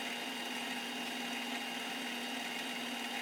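Threading machine running steadily at 500 RPM, a constant mid-pitched mechanical hum and whir with no variation, close and alone.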